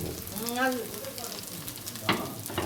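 Oil sizzling in a pan as something fries and is stirred around. A soft hiss runs under a brief background voice, with one clatter of a utensil near the end.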